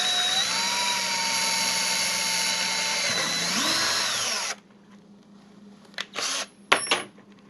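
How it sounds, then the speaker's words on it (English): A power drill bores a small pilot hole into a plastic compost bucket, its steady whine running for several seconds, dropping in pitch as it bites, then stopping, followed by a few light clicks and knocks. "we're going to drill this hole in 3 separate steps"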